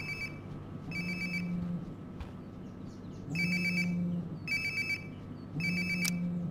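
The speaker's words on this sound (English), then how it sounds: "Sounds like my phone is definitely nearby." A phone rings nearby in a bedroom scene from the video game Life is Strange: Before The Storm, with repeated electronic ringtone bursts in an even on-off rhythm, clear and moderately loud over a low room hum.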